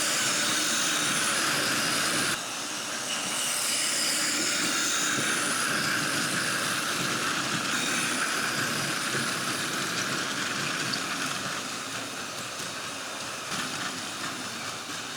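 A continuous rumbling, whirring run of a Plarail toy train on an elevated double track, steady and fairly loud throughout with no talking.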